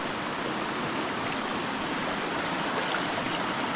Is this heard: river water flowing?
yes